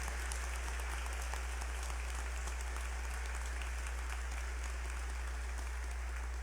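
A congregation claps steadily at a Mass in the Nossa Senhora Aparecida do Sul sanctuary, a continuous dense round of applause under a constant low hum.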